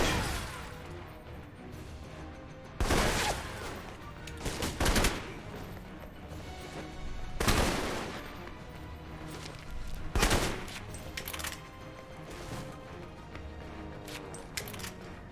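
Gunfire from automated turrets in the video game Alpha Protocol: bursts of sharp, loud shots in irregular clusters, some rapid and overlapping, over a low game ambience with no talk.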